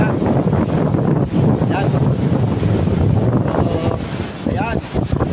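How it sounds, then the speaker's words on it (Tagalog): Strong waves crash and wash against a fishing pier in stormy weather, a loud continuous surging roar with wind buffeting the microphone while someone speaks over it. "Ayan yung paghampas ng alon dito ngayon sa sibol ng aming pantalan."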